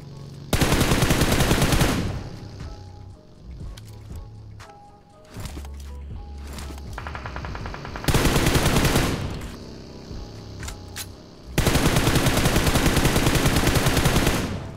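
SKS rifle fire in a mobile shooter game, with several long loud bursts of rapid gunshots separated by quieter stretches of scattered game sounds.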